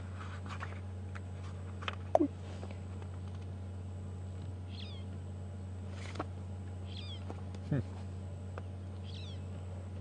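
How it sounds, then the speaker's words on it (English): A magpie shrike calls on an evening safari drive at Djuma and Arathusa, giving a few short, sharp notes spread across several seconds over a low vehicle hum, with faint chatter in the background. "Corvinella melanoluca."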